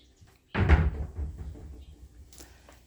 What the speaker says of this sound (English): and shut the door there.